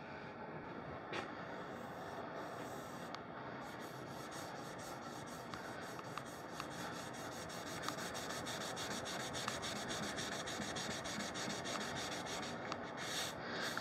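Steady soft rubbing and brushing as wood stain is worked over a mid-century modern bedroom set, a continuous close scratchy swish with small bumps and no talking.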